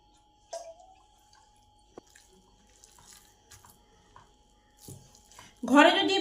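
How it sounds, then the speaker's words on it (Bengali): Water is poured into flour batter for evening snacks, a short splashing pour arriving near the end after quiet clinks and a brief voice. "দু টেবিল চামচ জল এতে অ্যাড করব।"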